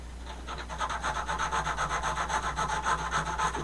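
A steady back-and-forth rasping of abrasive on wood, rhythmic strokes repeating quickly over a low hum.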